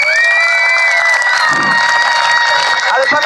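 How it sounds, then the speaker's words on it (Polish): A crowd at a circus-style street show cheers, whoops and claps loudly and continuously, with a voice calling out over the noise. "Dajcie sobie wzajemnie ogromne brawa za to, że zostaliście do końca!"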